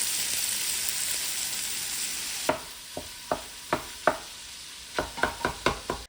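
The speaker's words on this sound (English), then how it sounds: "we've got the sausage cooking off in the pots behind me" Sweet Italian sausage frying in a pot, a steady sizzle with a string of sharp pops and spits in the second half, close by and with no talking.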